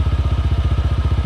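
A Honda PCX 160 scooter's CVT runs with a fast, regular scraping clatter, each pulse repeating evenly over the low engine drone, close and loud with no talk.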